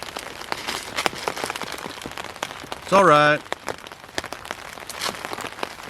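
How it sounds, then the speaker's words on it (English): Rain begins falling outdoors at the Hollow, with scattered drops pattering close by in an uneven rhythm. Midway through, a person briefly says a few words over the patter. "It's going to start raining on me."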